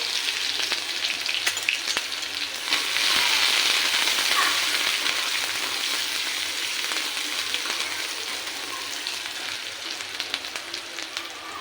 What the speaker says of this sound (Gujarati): રાઈ ફૂટે એટલે આપણે આ ઝીણી સમારેલી ડુંગળી એડ કરીશું